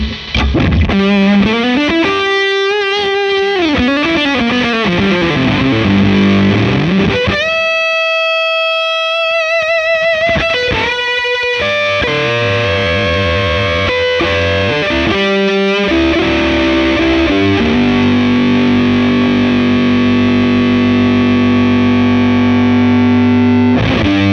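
Heavily distorted electric guitar through a Chase Bliss Automatone Preamp MKII fuzz at full gain, saturated fuzz, loud sustained notes and bends, a brief gated gap midway, then thick buzzing chords ringing on.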